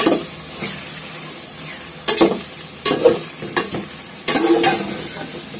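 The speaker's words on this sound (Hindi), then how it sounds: "चिकन को सब्जियों को भून लूँगी अच्छे से" Chicken with potatoes, peas and carrots fried in a pan for spicy chicken noodles, a steady close sizzle broken by several louder bursts of stirring and scraping.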